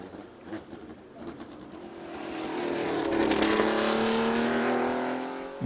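A Porsche 914 race car at the Le Mans Classic, struggling through the Dunlop section, passes by with an engine that rises from a distant rumble to a loud, climbing rev and then fades slightly.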